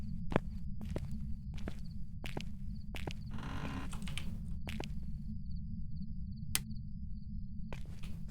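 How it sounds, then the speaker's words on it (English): Footsteps tread in the horror game Phasmophobia, roughly evenly spaced close thuds over a constant low hum, with a faint high chirping in the background and no talking. "Thought I heard something, but I think it's just my own footsteps"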